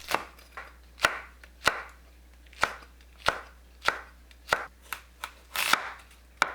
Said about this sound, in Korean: 청양고추는 얼썩 썰어주세요